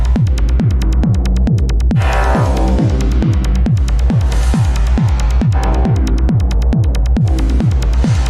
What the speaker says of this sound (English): I've got this droning sound, right? And so this is what Emit is doing.